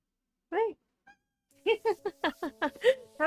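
A house cat meows once, then a voice talks over a run of chirps and meows, with the animal and speaker both close.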